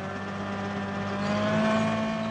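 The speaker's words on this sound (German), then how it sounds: "Der Häcksler wird von einem Traktor angetrieben." A tractor-driven homemade wood chipper with a flywheel of steel blades, a steady droning engine hum with tonal whine that swells slightly louder, no voices.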